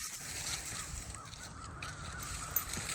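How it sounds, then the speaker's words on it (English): Birds calling in Oakwood Cemetery in Syracuse, New York: scattered caws and honking calls, distant and faint, over a steady low outdoor background with no one speaking. "Ooh, you can hear all the birds."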